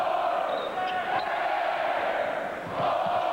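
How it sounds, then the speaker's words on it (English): Basketball arena crowd roaring steadily in support of Air Force during a 1997 college game, a dense wash of cheering and voices that swells again near the end. "Crowd getting into it now, trying to bring Air Force back."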